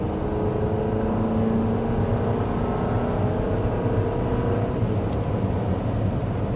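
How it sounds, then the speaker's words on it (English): Engine of a 2025 Chevy Traverse straining under hard acceleration, a steady loud drone with slowly rising tones and road rumble throughout, no voices. "You have plenty of power, you're accelerating quite quickly, but it sounds like the vehicle is straining under its weight."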